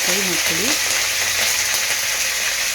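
Whole spices, bay leaves, curry leaves, cardamom, fennel and kasuri methi fry in oil for Hyderabadi egg curry, a loud continuous sizzle under a brief high squeaky voice-like sound near the start.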